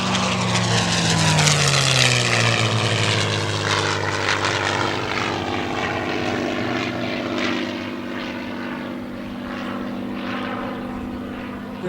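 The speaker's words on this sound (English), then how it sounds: "As we get a beautiful photo pass from your left to right, Stan Music, and the P-51D Mustang" A P-51D Mustang fighter makes a photo pass at an air show, its propeller engine droning loud and near before the pitch slides lower as it passes and recedes into a steady fading rumble.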